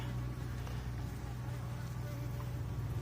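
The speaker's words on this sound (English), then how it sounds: "So we got some bees on the door." Bees buzzing at the door of an owl box used as a hive, a steady continuous hum close to the box, with a low constant drone underneath and no clear talk.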